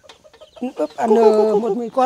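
Chickens on an upland farm cluck and squawk close by, with a longer drawn-out call partway through, while someone talks briefly over them.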